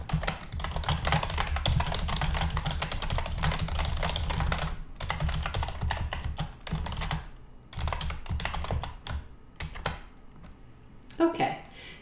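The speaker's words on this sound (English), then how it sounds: "Now we're going to type in some text for the operator." Text being typed on a computer keyboard: fast, dense key clatter runs close and continuous with a few short pauses, and a brief voice comes in at the very end.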